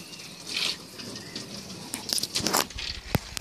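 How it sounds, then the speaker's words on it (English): Water starts flowing from a hose or tap used to cool solar panels outdoors, a soft splashing hiss with a few louder gushes and spatters. "Let's turn the water on."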